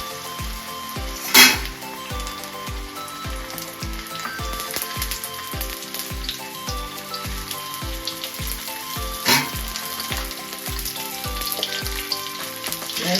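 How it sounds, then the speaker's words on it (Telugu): Pieces of fish for a Nellore-style fry crackle and sizzle steadily in hot oil, with a regular pulsing rhythm and a couple of sharper bursts, close and fairly loud with no talk. "ఫ్రై చేసుకోండి."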